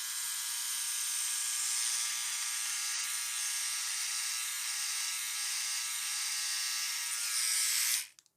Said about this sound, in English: Look, I got this new shaver. It's really good. It's called a Philips One Blade